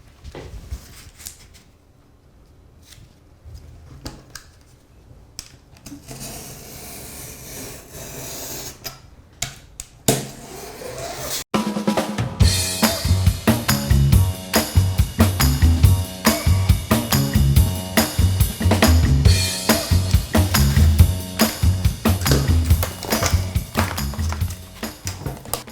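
A cardboard panel for a portable desk is cut by hand: soft, faint scraping at first, then loud, dense, continuous rasping with rapid repeated strokes through the second half.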